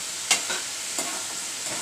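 Steamed cowpea (chawali) vegetable is stirred in a pan. A faint, steady hiss runs throughout, broken by a few soft scraping strokes, close and quiet, with no talking.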